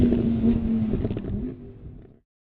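A Lamborghini Huracan LP 610-4 sports car driven hard roars loudly with a strong engine note that holds and then fades away quickly to silence.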